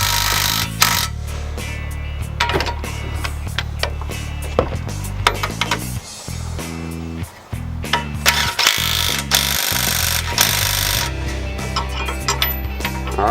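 Metallic ratcheting and clicking from a wrench tightening coilover bolts on a Mitsubishi Evo X, in a close, loud series of sharp ticks with short pauses between strokes.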